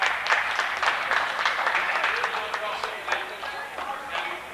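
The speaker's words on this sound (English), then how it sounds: "So she'll get a nice hand from the crowd" Crowd applause in a gym at a women's college basketball game, steady clapping from spectators with a murmur of voices underneath, moderately loud and continuous throughout.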